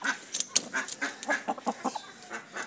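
A rooster makes a rapid series of short, close clucks and squawks in an uneven rhythm, with no talking over it.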